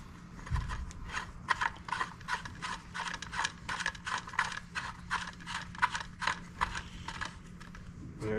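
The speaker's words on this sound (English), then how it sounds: "So you screw this in the top like so." A hanger screws into the top of a Hyperlite LED light in a barn, giving a rapid series of ratcheting clicks and small mechanical ticks close by for several seconds.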